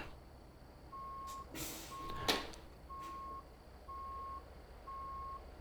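A truck backing up in American Truck Simulator sounds a series of five evenly spaced reversing beeps over a low engine hum, with a couple of short hissing bursts between them.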